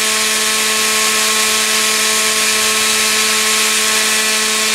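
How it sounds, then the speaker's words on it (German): A diamond-bonded grinding ring on a rotary tool deburrs the port edges of a two-stroke cylinder, a loud steady high-pitched whine that holds constant throughout, with no talking. "Und das ist auch sehr effektiv mit diesem diamantgebundenen Ring hier, das funktioniert."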